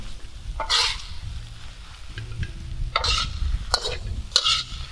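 Seasoned instant noodles stir-fried in a pan, with steady sizzling and several bursts of tossing and scraping spaced a second or two apart, close and fairly loud.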